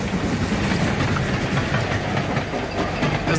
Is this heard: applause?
no